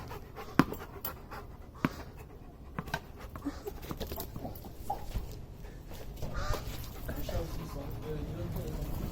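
Close, rapid dog panting runs steadily throughout, with scattered soft thumps and faint background noise.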